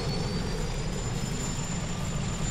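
A Chinook helicopter in the tactical shooter Project Reality, its engines and rotors producing a loud, steady, close whine and rumble that fills the whole stretch without talk.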